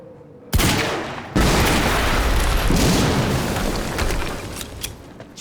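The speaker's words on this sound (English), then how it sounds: "there's some explosive barrels. You shoot those, you can get through." Explosive barrels are shot and blow up in the action video game Quantum Break. A sudden loud blast hits, a second heavier boom follows a moment later, and a long rumbling roar then slowly dies away.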